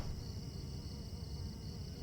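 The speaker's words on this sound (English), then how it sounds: "Oh, no, not the birds, bees, bugs." A steady, faint insect buzz drones without a break through an in-game environment in Silent Hill 4: The Room, a low hum with no voices over it.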